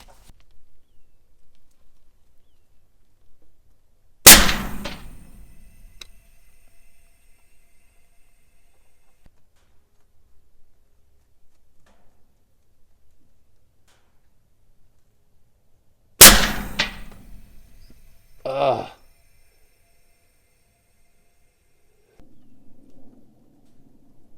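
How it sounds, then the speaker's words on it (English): Two loud, sharp reports from an Umarex Hammer .50 caliber airgun fired at 100 yards, roughly twelve seconds apart, each one followed by a fainter impact clang, in otherwise quiet surroundings. "So let's go ahead and fire off a few more shots here at 100 yards."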